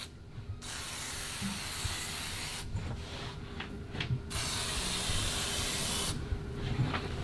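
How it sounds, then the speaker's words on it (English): Long steady hiss of silicone aerosol spray onto a car window's rubber track in several bursts, with short pauses between, close up and fairly loud. "spray the entire rubber track."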